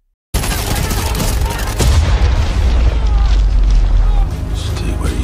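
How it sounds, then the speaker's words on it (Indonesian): A missile explosion in a jungle action film erupts as a sudden heavy boom, then a sustained roar of blasts and gunfire-like rumble that stays loud for several seconds before easing off. "Reaper pun menembakkan rudal agar Kenny bisa selamat."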